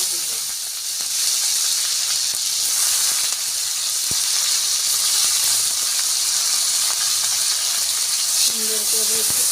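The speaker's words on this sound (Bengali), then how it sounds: "কাঁচামরিচ, পেঁয়াজ দিব।" Green chilies and onion sizzling in leftover fish-frying oil with cumin seeds, a steady close hiss and crackle running throughout with faint clinks near the end.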